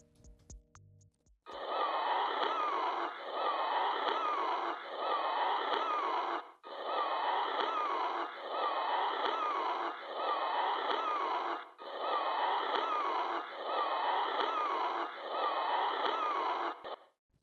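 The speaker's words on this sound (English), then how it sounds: "I think this was the wheezing, sound of me wheezing." Raspy, breathy wheezing from a person with the flu in long sustained bursts separated by brief pauses, harsh and airy, close up with no talking.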